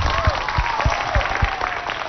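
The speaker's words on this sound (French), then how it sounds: "Applaudissez pour elle" An audience applauds a contestant on a quiz show, steady clapping throughout with a few louder individual claps standing out.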